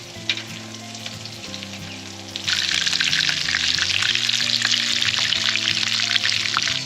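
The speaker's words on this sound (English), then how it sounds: "Put a bit more oil and then wait and let them sizzle." Fish fillets sizzle loudly in a hot frying pan, the hiss jumping louder partway through and staying steady, with faint background music beneath.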